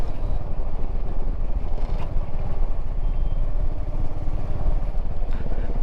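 Motorcycle on a year-end 2024 road ride from Kolkata toward Siliguri, near the Ganges: a steady low engine drone mixed with constant wind buffeting, loud and unbroken throughout, with no speech.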